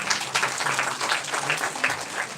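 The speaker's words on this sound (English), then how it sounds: "Yes, big round of applause for ma'am." An audience claps for someone speaker at a women's empowerment startup event: a steady, even wash of many hands throughout, with faint voices underneath.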